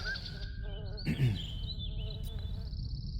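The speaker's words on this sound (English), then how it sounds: "It sounded like a bug or a frog or something like that." A buggy, frog-like creature call in the video game Riven, a warbling buzz over a steady tonal ambient drone, with a brief louder burst in the middle.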